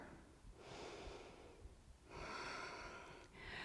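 Deep breaths during a yoga session: a long, airy inhale followed by a second fuller breath, close and audible but soft, with no talking over it.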